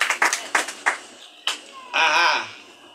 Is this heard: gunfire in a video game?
no